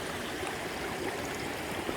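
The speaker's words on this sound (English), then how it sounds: "Seen any water flowing like this since Virginia." A stream of flowing water on the Appalachian Trail rushes steadily and evenly, a dense close-up wash of water with no voices over it.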